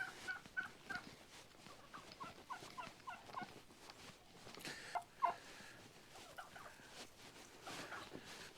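Several farm turkeys in a barnyard gobble in scattered, fairly faint bursts, with a sharper call near the middle, amid soft rustling and background noise.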